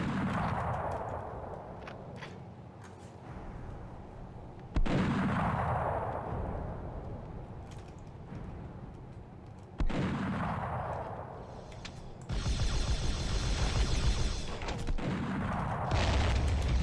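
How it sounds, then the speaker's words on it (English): Massive explosions boom in the video game Warhammer 40K: Fire Warrior, with three or four heavy blasts arriving at intervals, each a sharp crack followed by a long, decaying rumble, and a harsher crackling burst near the end. "I do wonder where we're hiding such massive explosions."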